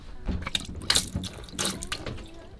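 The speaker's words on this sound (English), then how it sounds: "doing the dishes" Dishes washed in the sink of a 34 ft sailboat: running water splashes and trickles unevenly, with clinks and sloshes coming in close bursts and no talking.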